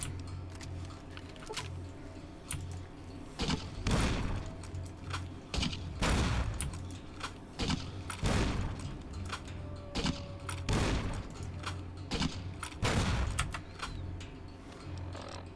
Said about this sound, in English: I'm just going to use a grenade rifle.